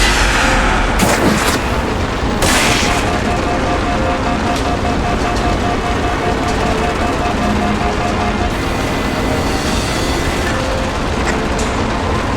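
Railgun fire in the Halo 4 campaign mission Reclaimer: two loud, sharp blasts about a second apart over a dense, constant rumble of vehicle and battle noise.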